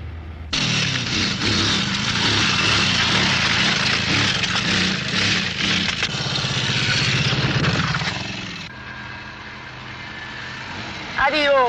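A motorcycle engine runs close by, a steady throaty drone that lasts several seconds before dropping to a quieter idle, with voices in the background.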